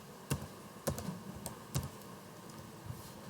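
Several crisp keystrokes on a computer keyboard, typed at close range in an irregular rhythm with short pauses between presses.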